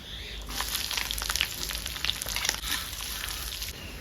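Onion, green chillies, dried red chillies and ponnanganni spinach fry in a pan with a loud, continuous close sizzle and crackle, joined by light stirring noises and no talk.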